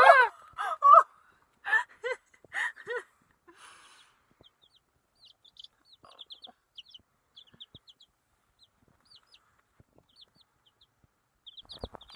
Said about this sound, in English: You got a bird on your head